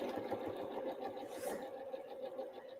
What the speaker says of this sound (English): And I'm back stitching at the beginning.